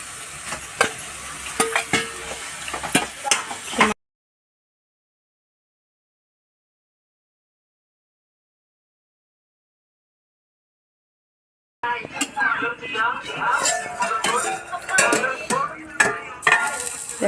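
Minced meat (keema) is added to a green masala and stirred in a hot pan, giving busy sizzling with metallic scraping and clatter, close and loud, broken by a long stretch of silence in the middle.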